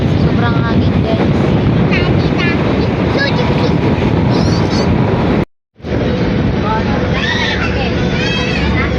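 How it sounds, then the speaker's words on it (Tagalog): Strong wind roars across the microphone at the Batangas Pier, a dense constant rumble with a crowd babbling and voices talking underneath, briefly cutting out for a moment before the gusty noise resumes. "Sobrang hangin guys."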